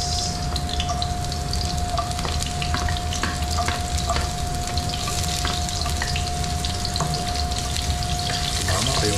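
Onions frying in a pan, a steady dense crackling sizzle held close and loud throughout, with no voices.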